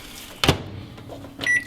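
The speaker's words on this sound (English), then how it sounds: "Pop it in the microwave" Microwave oven with a sweet potato wrapped in saran wrap. A loud clunk of the door or start is followed by a low hum, then a short cluster of electronic beeps.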